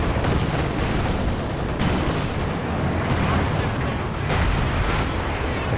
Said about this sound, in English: Katyusha fire coming back.